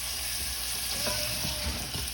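Peppers sizzle steadily in a hot frying pan as they are stirred and sautéed, a continuous close frying hiss broken by a few soft scraping knocks, with no voices.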